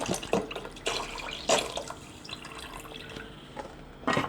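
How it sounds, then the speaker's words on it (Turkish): Milk poured into a pot for a Turkish milk-based chicken breast pudding, giving liquid splashes and drips, then soft scraping as it is stirred, with a few louder spoon knocks. "Evet sütümü ekliyorum. Ve bunu karıştırmaya devam ediyorum."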